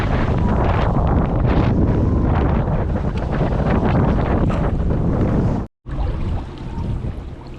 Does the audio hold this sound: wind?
yes